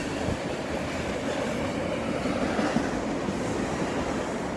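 A BNSF manifest freight train of hoppers, tank cars and empty plywood cars rolls past Carkeek Park with a steady, moderately loud rumble and a faint rhythmic wheel clatter and no voices.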